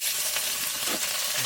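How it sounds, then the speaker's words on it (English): Steady crackling sizzle of turkey cooking on a hot Big Green Egg grill, close and continuous with faint pops, no voices. "I can hear it sizzling."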